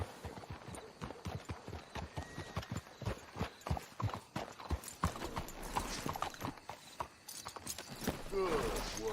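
Horse hooves clip-clop steadily at a walk in a Red Dead Redemption II game scene, a rapid run of distinct close hoof strikes with a whinny, mechanical clatter and voices talking over the hoofbeats.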